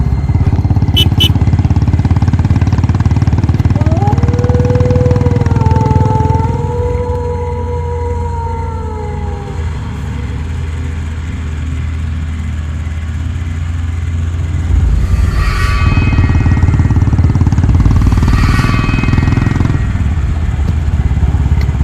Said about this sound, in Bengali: বাইকের আওয়াজ এবং হর্ন